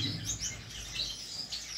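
Gouldian finch chirps and high tweets repeat in quick bursts over a low background hum, fairly close and moderately loud.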